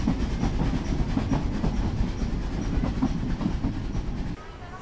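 A train rolls past on the rails with a loud, steady rumble and rhythmic clickety-clack of wheels over track joints, dropping off sharply near the end.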